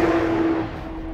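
Porsche Cayman GT4 RS with the Manthey Racing Kit, its engine holding a loud, close, steady tonal drone that fades slightly as the note settles, heard alone without talk.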